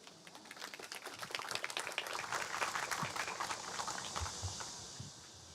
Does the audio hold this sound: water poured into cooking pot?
no